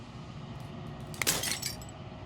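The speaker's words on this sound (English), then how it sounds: "As the final fragment of glass shatters" A glass-shattering effect in the horror visual novel Slay the Princess, one sharp breaking burst followed by a short spray of tinkling fragments over a low ambient drone.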